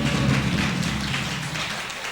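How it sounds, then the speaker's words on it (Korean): A church congregation at a Sunday morning service claps together, a soft, continuous patter of many hands that fades slightly toward the end, with no talking over it. "박수 한번 해주시기 바랍니다"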